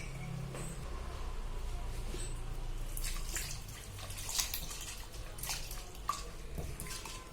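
Water poured into a pot of chicken with spices for pressure cooking, a quiet splashing trickle with scattered drips and small clinks.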